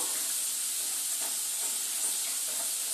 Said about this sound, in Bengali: বাদামটা একটু লাল লাল করে ভেজে নেব